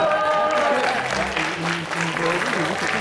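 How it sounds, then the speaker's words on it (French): Audience at a tournament event applauds a player called up by name, a dense steady patter of clapping mixed with voices and some tonal sounds over the full stretch. "on applaudit bien fort Samuel."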